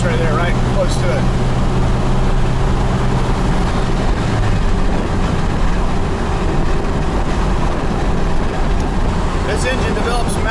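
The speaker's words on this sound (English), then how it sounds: "This engine develops maximum torque at 1600 RPM. So right now I'm right at 1600 RPM doing about 60 miles an hour." A Cummins 12-valve diesel swapped into a Ford truck in place of a 6.4L, cruising near 60 mph at 1600 RPM, gives a loud, steady low drone with road rumble and a faint whistle over about ten seconds.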